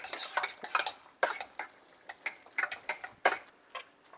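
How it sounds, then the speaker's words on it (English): Spoon scraping and clinking against a pan while salt is mixed into a meal-prep lunch, a series of quick irregular metallic scrapes and taps, fairly close and quiet, no talking. "Mix the salt in real good."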